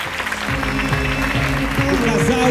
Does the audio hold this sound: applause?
yes